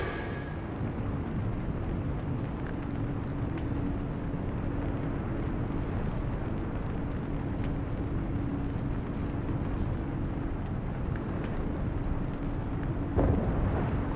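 Warship explosion in World of Warships as an enemy cruiser sinks: a sustained, dense rumbling roar fills the whole stretch at steady loudness, with a sharper burst near the end.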